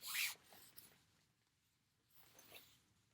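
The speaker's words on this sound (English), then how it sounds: "that rough metal zipper" Rough metal zipper on a Vera Bradley handbag being pulled, producing a brief close rasp followed by a second fainter zipping pass, quiet and without voices.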